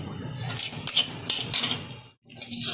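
Garlic, green chillies and coriander fry in hot oil for a Bengali chicken thecha, with a steady sizzle broken by clinks and scrapes of a utensil against the pan, then a brief pause.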